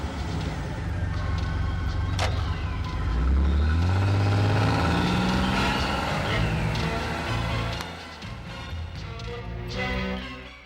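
A car engine starts and revs up as the vehicle pulls away, a loud mid-pitched roar that rises, then settles into a steady drive before fading slightly.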